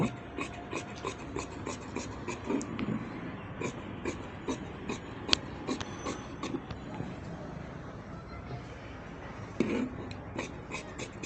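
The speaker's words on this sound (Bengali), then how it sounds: "এখন আমি জিনিসটাকে এভাবে কাটিং করব" Scissors cut through blouse fabric in a string of soft, close snips and rustles, steady and fairly quiet, against a low background.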